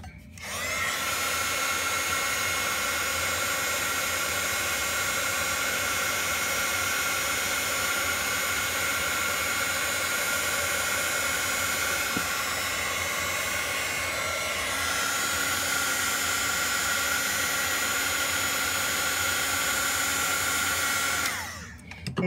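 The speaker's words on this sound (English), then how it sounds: "So now we're going to bring in our heat tool" A crafting heat tool blows hot air over card stock with a loud, steady whirring hiss close by, running without a break for about twenty seconds before it cuts off at the end.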